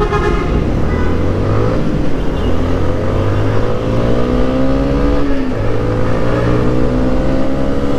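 A Yamaha Sniper motorcycle engine pulls hard and loud up close, its whine climbing in pitch, then dropping with a gear change and rising again, with no talk.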